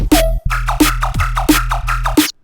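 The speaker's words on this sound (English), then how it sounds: "Or we could use the growl that we created" A loud synthesized lion-growl bass hit in a jump-up drum and bass style barks repeatedly over pounding low bass and punchy drums, rhythmic and close, cutting off abruptly at the end.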